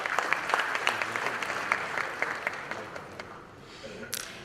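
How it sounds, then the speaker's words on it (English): Applause from the audience at a real estate awards ceremony, a steady patter of many hands clapping, moderately loud, that thins out near the end, with faint voices beneath. "A big round of applause once again."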